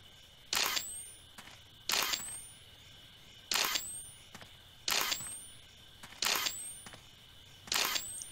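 Camera flash from the horror game DreadOut firing six times at steady intervals, each a sharp click followed by a rising electronic whine, clear and close against a quiet droning background.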